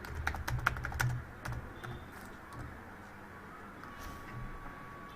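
Rapid clatter of typing on a computer keyboard, a quick burst of keystrokes up close at first, then thinning to a few scattered taps over quiet room hiss.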